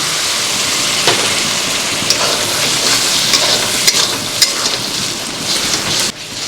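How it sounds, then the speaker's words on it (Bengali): Bhuna spice paste of chilli powder and masala frying for a Bengali mutton curry with a little water added, a loud continuous sizzle and hiss with occasional scraping stirs, no voices. "এবার মশলাটাকে ভালোভাবে কষাতে হবে অল্প অল্প করে জল দেব আর কষাবো"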